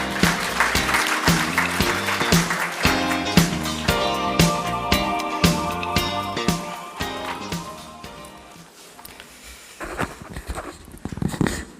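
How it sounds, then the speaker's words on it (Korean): An audience at a national dementia management workshop applauds to welcome a speaker, a dense patter of clapping that goes on for several seconds and then thins and fades toward the end, with no talk over it. "과장님을 큰 박수로 맞이해 주시기 바랍니다."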